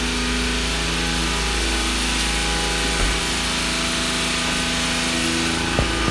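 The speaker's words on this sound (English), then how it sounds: "It's a 3-cylinder motorcycle engine in this thing." A tiny three-cylinder motorcycle engine runs in an auto body shop with a loud, steady, high-pitched buzz and constant drone, nearby and uninterrupted.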